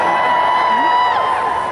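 A large live audience at a DanTDM talk show cheering, a dense, steady roar of crowd noise with scattered whoops and high voices rising out of the mass, lasting just under two seconds.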